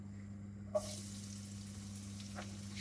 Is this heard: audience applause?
no